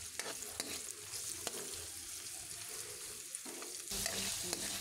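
Garlic, onion and carrots sautéing in a pan for pancit canton, a steady sizzle broken by scraping stirs and short knocks, the frying growing louder near the end.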